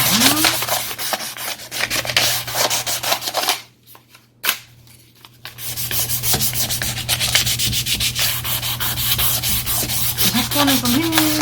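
Stained wood being sanded by hand with sandpaper, close and steady scratchy strokes that pause briefly midway before resuming, over a constant low hum.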